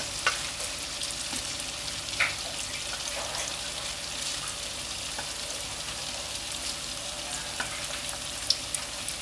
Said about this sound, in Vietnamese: rồi mình chiên cho nó lẹ